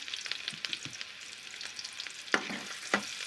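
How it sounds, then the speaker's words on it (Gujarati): Onions drop into hot oil tempered with cumin for a Gujarati kankoda curry, giving close sizzling frying with a few sharp crackles and brief stirring clatters, with no voices. "અને વઘારમાં નાખી દઈશું આપણે કાંદા."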